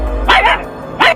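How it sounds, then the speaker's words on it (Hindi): A dog named Raja barks loudly twice, close and sharp, the two barks about half a second apart. "फिर राजा जोर जोर से भौंकता है।"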